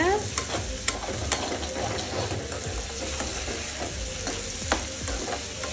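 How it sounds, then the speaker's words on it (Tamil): Mutton sautéing in oil in a pan for a curry leaves mutton fry, a steady close sizzle with scattered stirring clinks and scrapes throughout, loud and continuous. "ஒரு 2 நிமிஷத்துக்கு அப்படியே எண்ணெயிலே மட்டனை வதக்கி விடுங்க."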